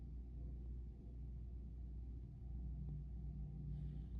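A truck engine turns down a street, giving a low, steady rumble that stays fairly faint and distant throughout, with no voices.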